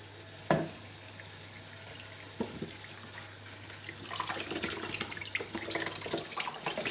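Cool flow of water from a tap pours into a sink, a steady close splashing hiss that keeps going throughout, with a few knocks near the start.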